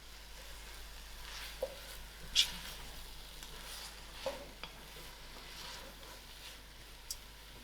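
Roasted pumpkin soup ingredients from garden-grown pumpkins are stirred together with salt and sugar, a quiet, steady mixing with a few soft clinks of the spoon against the pot.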